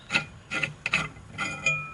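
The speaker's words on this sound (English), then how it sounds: "now let's take these bolts all the way off" Rusted bolts worked loose from an old WideLite 250-watt HPS flood light, giving a few short scraping, ratcheting rubs of metal on metal in separate close bursts.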